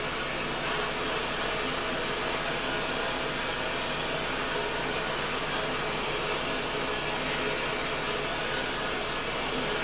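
A vapor blasting gun sprays 220 grit media onto rusty Volkswagen parts inside a cabinet, making a loud, constant, unbroken hiss that fills the whole stretch.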